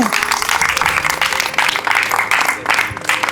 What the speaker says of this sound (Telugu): అమ్మ గట్టిగా చప్పట్లు పెట్టండి